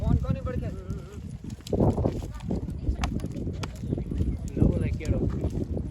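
Horse hooves clip-clop in a steady stream of sharp knocks at a rural horse gathering, heard under loud nearby talk and crowd noise.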